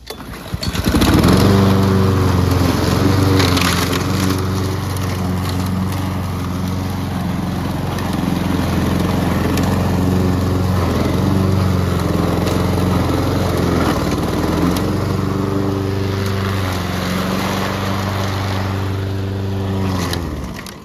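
A Honda HRX217 push lawn mower with a GC200 engine drones steadily and loudly while cutting tall grass, its engine pitch dipping and recovering under load throughout.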